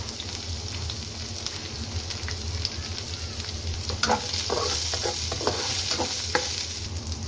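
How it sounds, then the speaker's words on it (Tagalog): Garlic and onion sauté in a hot pan, giving a constant close sizzle with scattered spatter pops and scraping stirs that grow busier in the second half, over a low background hum. "Igisa natin ang bawang at sibuyas."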